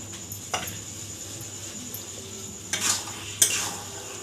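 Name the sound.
stirring coriander leaves into fish head dal fry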